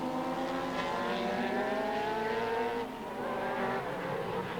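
3.5 litre race cars at Mondello Park sweep through a corner, engines droning loudly in a continuous high revving roar that dips briefly and returns as the pack passes close together.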